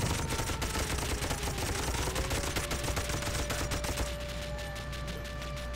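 Dense, continuous gunfire from a toy-soldier war game, rapid machine-gun bursts hammering loud and close throughout, with a steady mechanical whine running beneath.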